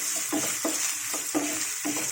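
A spoon stirs capsicum, potato and onion curry in a hot pan, a few soft scraping strokes in a slow rhythm over a constant gentle sizzle, close and quiet.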